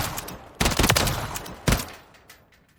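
Burst-fire weapon in Call of Duty Modern Warfare III, a close, loud set of rapid shot bursts in two main clusters, ringing out briefly before fading.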